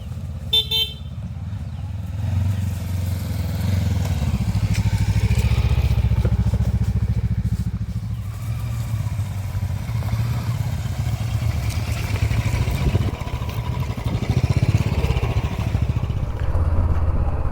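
A group of motorcycles rides out alongside a loaded XUV, engines rumbling and rising for most of the stretch, with a horn toot near the start and some faint talk in the background.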